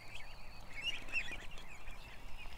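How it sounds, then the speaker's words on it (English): A friendly goose honking and calling close by outdoors, several short nasal calls over soft background noise. "There's the goose."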